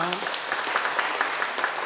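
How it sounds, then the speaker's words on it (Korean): A church congregation claps through a Sunday worship service at a baptism and confirmation, a dense, steady wash of applause that fills the room, with a brief voice at the very start. "박수로 한번 축복하겠습니다."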